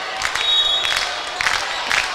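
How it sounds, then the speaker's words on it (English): At a high school volleyball regional final, a student section in a gym starts a slow clap: spaced, loud, echoing claps from the crowd over a continuous murmur of the audience. "AP student section starting the slow clap."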